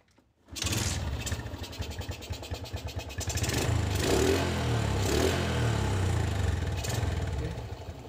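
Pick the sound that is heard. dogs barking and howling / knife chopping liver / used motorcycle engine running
used motorcycle engine running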